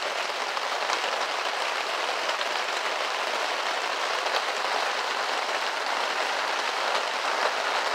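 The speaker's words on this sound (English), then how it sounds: "Starting to pick up on the rain." Steady rain pours outdoors during a car detailing session, an unbroken, fairly loud hiss of drops on surfaces lasting several seconds with no talking.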